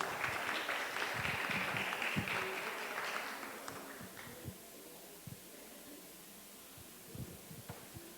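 Audience welcoming a speaker at a heritage conference, applause that starts fairly strong and fades out after a few seconds, leaving quiet room noise with scattered faint knocks.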